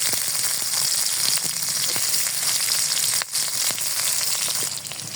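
Chili and onion fry in hot oil in a kadai, with a loud, steady crackling sizzle and a few faint stirring scrapes close by, no one speaking.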